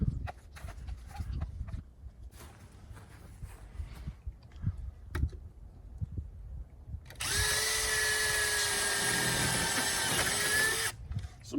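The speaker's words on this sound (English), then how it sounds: "So we use an 1/8 inch drill bit." A power drill with a 1/8 inch bit pre-drills a window screen frame in one loud, steady whine lasting several seconds, after quieter handling noises and knocks.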